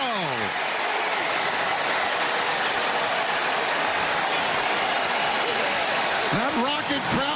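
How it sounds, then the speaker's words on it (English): A Toledo Rockets football crowd in the end zone roars after a touchdown in a game against Ohio State, a dense, steady stadium cheer that carries on throughout, with a commentator talking over it. "That rocket crowd in the end zone is loving it."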